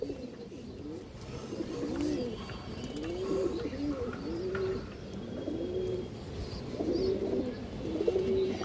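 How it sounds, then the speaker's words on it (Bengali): Giribaz high-flyer pigeons, including a hen, coo in soft, repeated rolling phrases, close and fairly quiet, with faint chirps in the background. "খুব সুন্দর একটা মাদি কবুতর"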